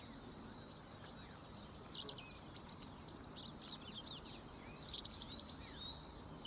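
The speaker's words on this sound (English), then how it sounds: "Can you hear that bird?" A bird sings outdoors in repeated chirping phrases, fairly distant and steady, over a constant background hiss of insects and ambient noise with no talking.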